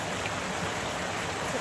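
A river in the Jamaican countryside flowing steadily, a soft continuous wash of moving water heard close and unbroken throughout.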